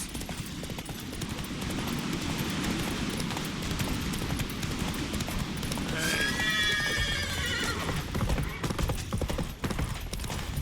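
Geralt's horse Roach in The Witcher 3 gallops with steady, continuous hoofbeats under game ambience, then gives a loud neigh in the middle of the run.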